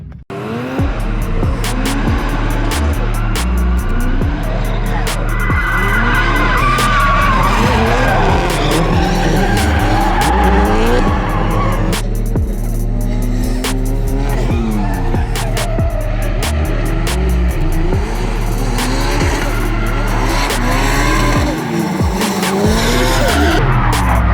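A car drifts around a track, its engine roaring hard and tires squealing and skidding almost without pause, loud and close throughout.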